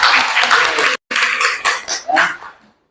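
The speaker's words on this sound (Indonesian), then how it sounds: "Tepuk tangan untuk kita semua" A classroom audience claps after a group presentation, dense, lively applause heard close by, briefly breaking off and then fading out in scattered claps.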